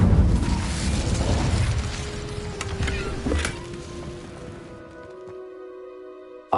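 Incendio fire spell cast in Hogwarts Legacy, a loud bursting whoosh of flame that crackles and fades over several seconds, ending in a lingering tonal ring.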